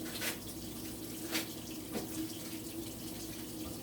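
Tap water runs steadily into a kitchen sink while food is rinsed after a vinegar pour, a continuous mid-level splashing stream with a few brief louder splashes.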